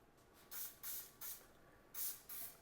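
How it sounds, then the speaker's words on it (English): Cooking oil sprayed from a can onto chicken wings in foil, five short quiet hissing bursts at an uneven rhythm, each lasting about a quarter second, with no voices. "Another quick spray of oil on this side of the chicken."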